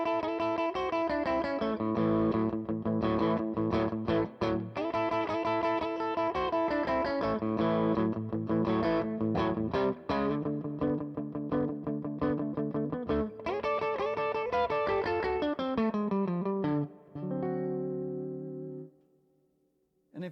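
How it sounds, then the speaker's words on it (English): A Tone King Falcon Grande guitar amp on a lead setting: an electric guitar plays a gritty, overdriven lead riff with sustained notes and bends, ending on a ringing held chord. "you can get almost a nice like 50s rock and roll kind of sound"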